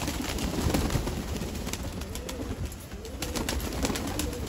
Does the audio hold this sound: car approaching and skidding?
no